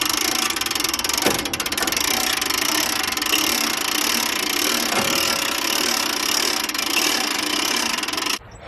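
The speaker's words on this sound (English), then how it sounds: "let's crank this up, and we'll use the winch to put this in" Winch on a Japa 405 firewood processor cranked to hoist the splitting knife into place, giving a steady loud mechanical grinding and whirring that runs continuously for about eight seconds before stopping abruptly.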